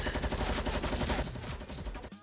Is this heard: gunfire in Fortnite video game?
yes